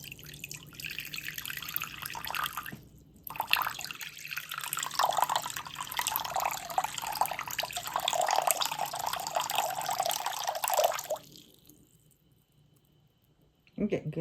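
Water being poured into sourdough dough in a kitchen, a steady splashing stream lasting about eight seconds before cutting off, with a brief pause and softer trickling near the start.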